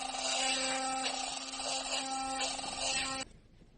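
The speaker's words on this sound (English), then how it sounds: "Here's a comparison showing the vibration and noise before the repair." A noisy, wobbly Philips Sonicare electric toothbrush before repair buzzes with a steady, loud rattling vibration that runs for about three seconds and then cuts off abruptly, with no talking.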